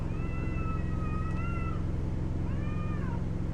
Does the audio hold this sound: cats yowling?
yes